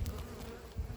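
A calm honey bee colony hums low and steady at an open hive, a soft continuous drone up close, with a brief louder buzz as a bee passes near.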